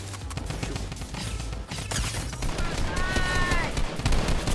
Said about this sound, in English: I forgot I'm using the drum gun!